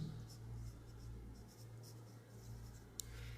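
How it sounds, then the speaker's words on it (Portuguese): A pen scratches words by hand on paper in soft, close strokes over a low background hum, ending with a small tap. "Então vou escrever aqui"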